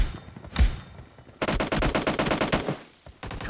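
UMP45 submachine gun fire in a video game: a short burst, a pause, then a long rapid automatic string of close, loud shots, with a brief final burst at the end.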